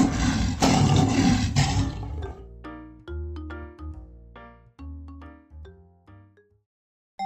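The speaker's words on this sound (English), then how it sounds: "Lion." A lion roars loud and close in a short burst lasting about two seconds, then a light ringing chime melody plays alone until the clip ends.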